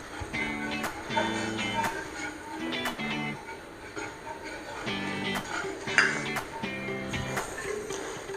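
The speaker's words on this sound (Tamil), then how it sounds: "இதை வந்து கொஞ்சம் அனல் கொடுத்து இந்த அல்வாவை இப்படியே கிண்ட போகிறோம்" A spoon scrapes and knocks against a pan while Bombay halwa is stirred over heat, giving repeated rhythmic clinks and scrapes at close range, with a faint voice and background hum underneath.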